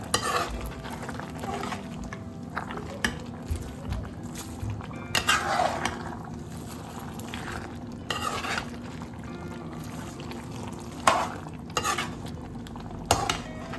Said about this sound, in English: I'm adding my fried anchovies into this one. Give it a good mix.